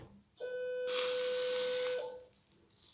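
An ERBE Erbotom ACC 450 electrosurgical unit in cutting mode gives a steady electronic tone, then a loud hissing sizzle for about a second as it cuts, fading back to the tone before stopping.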